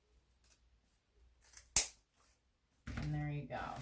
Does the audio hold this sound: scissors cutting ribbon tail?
yes